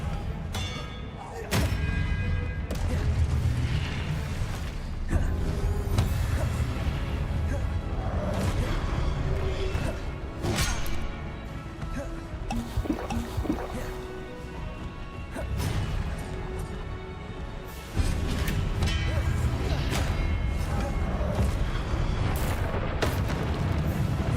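Expelliarmus spell effects in Hogwarts Legacy land as heavy thuds, crashes and booming impacts, with dense loud bursts and abrupt cuts between casts.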